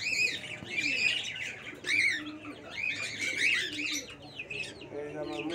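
Peacock chicks kept with hens give repeated high, thin chirps and tweets in close bursts, with softer clucking and murmuring underneath.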